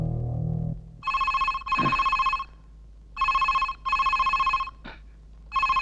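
A telephone rings in repeated bursts of bright electronic trilling, with short gaps between the rings. It sounds loud and close, and no one talks over it.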